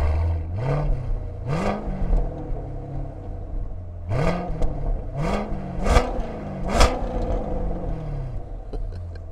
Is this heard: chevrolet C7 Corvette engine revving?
yes